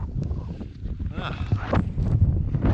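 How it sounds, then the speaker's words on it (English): Wind buffets the microphone on an exposed hilltop near Malham Cove, a steady rough rumble with gusts rising toward the end, while people speak faintly beneath it. "a bit windy up here."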